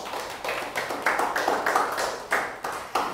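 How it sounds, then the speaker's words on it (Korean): Congregation clapping together during a Wednesday church worship service, a dense, steady patter of many hands that swells in repeated waves across the room. "하나님께 영광의 박수를"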